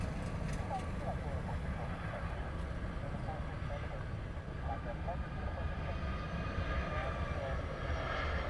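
Airliner departing Honolulu International Airport in Hawaii, a loud, steady, broad engine roar filling the whole stretch, heard from close range with faint speech underneath.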